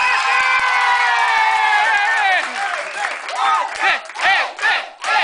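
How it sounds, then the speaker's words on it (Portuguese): A crowd of campers at the ACAMPA 2010 event shouts and cheers loudly, and the cheer then breaks into rhythmic bursts of chanting and whooping. "Palmas para o ET de Varginha!"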